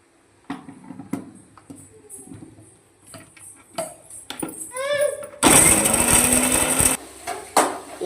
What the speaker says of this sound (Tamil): இப்போ நம்ம தேங்காவை நம்ம அரைச்சி எடுத்துக்கலாம்